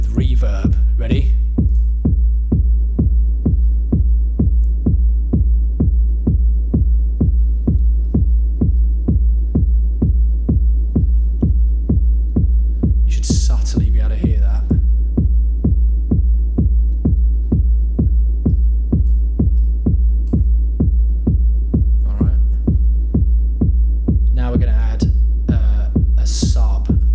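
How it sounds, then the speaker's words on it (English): A steady, booming techno kick drum with reverb thumps in an even rhythm with a reverberant tail, with occasional brighter hits layered over it. "So we've got another kick coming in with reverb."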